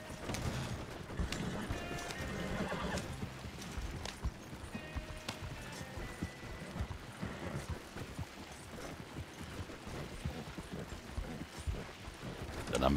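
Horses galloping in Red Dead Redemption 2 online, hooves clip-clopping in a busy, uneven rhythm over game sounds, with a faint whinny mixed in.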